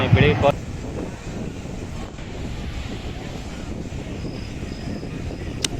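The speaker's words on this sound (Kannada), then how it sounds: "ಇಲ್ಲಿನ ಗಾಳಿ, ಅಲೆಗಳ ಸದ್ದು" Steady wind rushing across the microphone with a low, continuous wash of surf underneath at Murudeshwar beach, Karnataka; a brief louder burst opens the recording.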